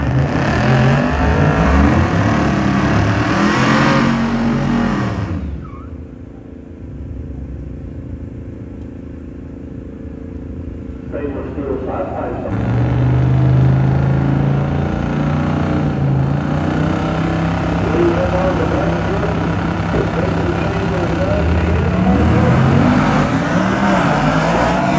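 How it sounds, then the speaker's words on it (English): A full-size truck and an all-wheel drive F-150, both running low tens at a drag strip, roar past at full throttle. Loud engine noise fades into a quieter stretch, then a second engine rises and stays strong and close. "get a good drive by the full-size truck"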